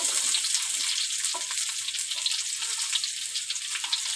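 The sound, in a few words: onions frying in oil in a pan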